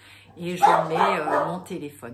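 A pet dog whines and yips in a high, wavering voice close by, with a few short barks near the end, while a person speaks French over it.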